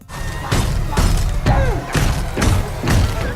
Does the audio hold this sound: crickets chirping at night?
no